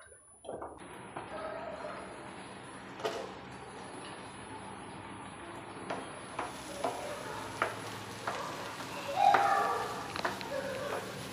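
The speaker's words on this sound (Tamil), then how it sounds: "இப்போ எல்லாத்தையும் நல்லா மிக்ஸ் பண்ணிவிட்டு இப்போ ஒரு 5 நிமிஷம் வேக வச்சு" Prawn biryani gravy simmering in a pot after being stirred together, a soft steady bubbling with scattered faint clicks and taps of utensils, fairly quiet and continuous.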